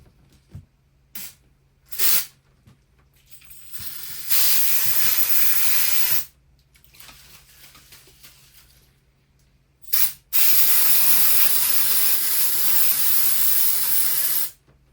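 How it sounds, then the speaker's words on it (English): Motor spray blasts onto a Team Associated SC10 RC car in two long, loud hissing bursts, with short puffs and quiet mechanical handling between them. "Let's spray a little motor spray on this side."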